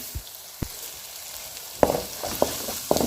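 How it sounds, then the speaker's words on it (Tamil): Chilli powder masala sautéing in a pan for Tamil-style chicken curry gives a soft steady sizzle, broken by several sharp scrapes and taps of a spoon stirring. "இதையும் சேர்த்து நல்லா வதக்கி வச்சுக்கோங்க இது நல்லா வதங்கணும்"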